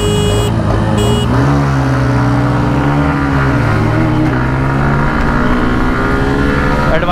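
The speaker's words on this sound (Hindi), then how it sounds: "तो चलिए हम चलाने जा रहे हैं एक्सट्रीम।" Hero Xtreme 160R motorcycle engine while riding, a loud continuous hum with pitch shifting through the revs, up close and steady, with brief faint beeps at the start.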